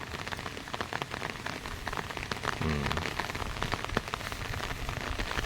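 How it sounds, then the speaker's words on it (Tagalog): Steady rain pattering on surfaces, a dense continuous patter with occasional louder drops, no voices. "Medyo humina yung ulan, pero babanat na naman yan mamaya."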